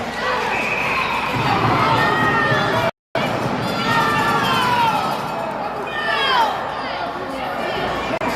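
Excited crowd at a sports match between Kitchener and LSL, rising and falling cheers and whoops, fairly loud, running under steady commentary with a brief dropout partway through.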